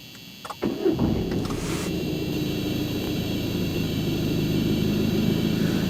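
A car engine cranks with a brief starter whir and then catches, settling into a steady, close idle hum that holds evenly to the end with no talk.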